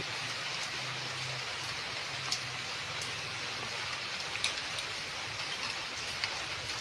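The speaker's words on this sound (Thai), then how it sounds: "ฝนตกนะคะ วันนี้" Steady rain falls continuously, a dense hiss of drops with a few sharper patters, no voices.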